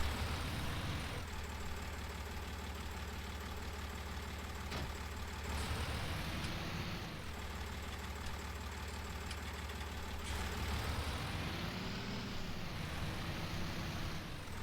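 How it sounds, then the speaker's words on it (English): Tractor engine idling in Farming Simulator 19, a steady mid-pitched drone that holds for the whole stretch, with no voices over it. "pull the tractor forward, get the tractor in a nice good spot"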